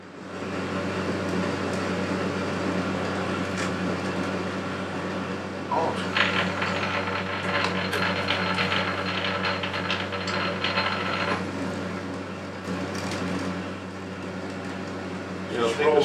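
Metal lathe running with a parting-off tool cutting into the workpiece, a steady mechanical whir overlaid by gritty, rattling cutting noise that swells for several seconds midway before easing back.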